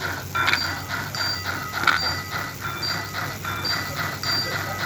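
Bell of an American Flyer model train in a DIY digital setup, ringing in repeated, evenly spaced metallic dings at modest volume over a steady electrical hum.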